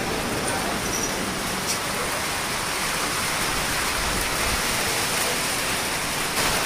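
Steady, dense downpour roaring without a break in Nainital, India, a broadband wash of heavy rain close by with no voices.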